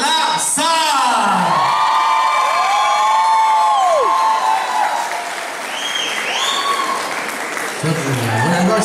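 A live audience at a radio-hosted music event breaks into loud applause with whoops, shouts and cheering, including children's voices, sustained across the whole stretch and close to the microphone.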